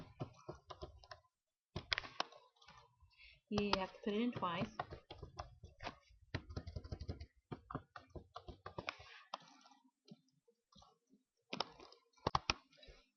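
Rapid clicking of keys on a computer keyboard, in uneven bursts close by, with a person speaking briefly over the typing.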